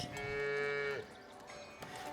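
A single long, loud cow moo in the medieval village-building game Foundation, sustained for about a second, then quieter game ambience with no talking.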